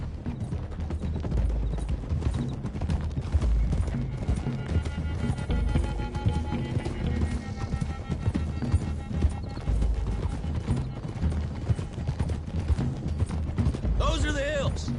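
Horses gallop in Red Dead Redemption II, a steady rumble of hoofbeats with neighing and whinnies under a dense, busy game soundscape, with speech heard over it.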